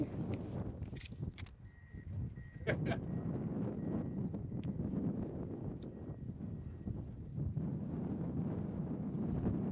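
Wind buffets a microphone outdoors at an ice rink groundbreaking ceremony in Hastings. It makes a steady low rumbling roar that fills the whole stretch, with a few faint knocks and rustles.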